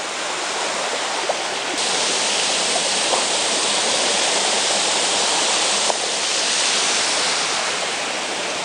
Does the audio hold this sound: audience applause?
no